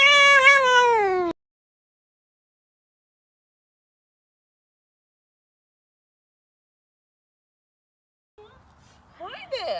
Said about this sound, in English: Oh, what a friendly cat.